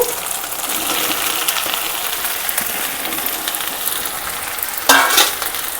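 Okra pieces sizzle loudly in hot oil in a pan for an okra and raw prawn curry, with a steady close hiss and a sudden louder burst of frying near the end, and no talking.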